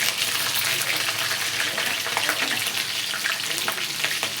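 Green chillies go into hot oil that already holds popped mustard seeds. A dense, steady sizzle and crackle of frying carries on without a break, close up, with no talk.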